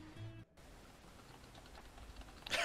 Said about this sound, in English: You can hear him just smacking his keyboard buttons.